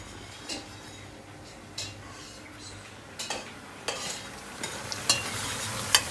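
Chopped mushrooms being sautéed in a pan on the stove for mushroom soup, quiet sizzling with intermittent scraping stirs and light clinks of utensil against cookware, getting busier toward the end.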